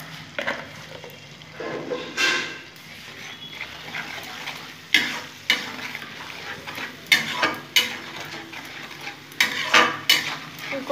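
Jackfruit being stir-fried for a vegetarian curry, with a spatula scraping and knocking against the pan in irregular bursts over a low sizzle, close and with no talking.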